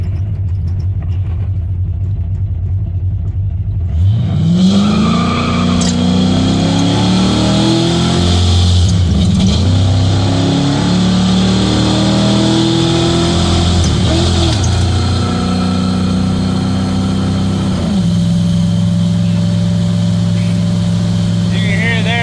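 A 1972 Ford Mustang Mach 1 with an upgraded transmission shift kit starts from a low idle, then its engine roars loudly as it accelerates, pitch rising and dropping through several firm gear shifts before settling into a steady drone.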